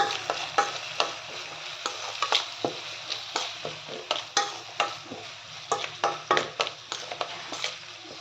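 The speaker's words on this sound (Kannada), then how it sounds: "ಹಸಿ ವಾಸನೆ ಹೋಗುತ್ತಾನ ಹುರಿರಿ ಸ್ವಲ್ಪ ಅರ್ಶಿನ ಹಾಕಿ" Ingredients fry in a hot pan with turmeric added, a steady sizzle beneath repeated scraping, clattering stirs at a quick, uneven rhythm, close and fairly loud with no talking.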